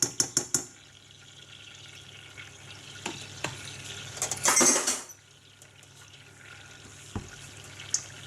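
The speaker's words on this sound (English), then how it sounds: "we have it in the pot, and we're just going to stir it around" A spoon stirs a butter mixture in a pot, with a few sharp scrapes and clinks at the start, then intermittent knocks against the metal and a short burst of louder scraping midway.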